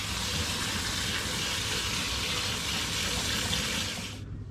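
Soaked black peas (carlins) being rinsed under running water, a loud, continuous gushing splash that cuts off abruptly near the end.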